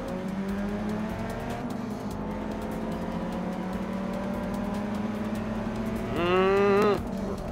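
A stock car's engine drones steadily while racing in the video game Forza 6. Near the end, a brief rising rev or tire squeal breaks through, and no voices are heard.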